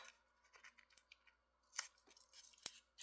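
Large scissors cutting out a paper craft piece, quiet and close: several crisp snips and small papery crunches in uneven bursts, with a couple of sharper clicks of the blades.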